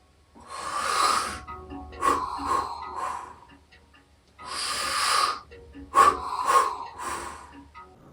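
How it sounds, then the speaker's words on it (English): A person doing a step-down breathing exercise takes two long, full inhales from the stomach up to the top of the lungs. Each is followed by a stepped exhale released in short, breathy pushes, close and clear, with no talking. "You do a full stomach to top lung inhale, then step down your exhale."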